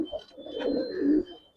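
Giribaz pigeons give a short, low, throaty coo nearby, lasting about a second.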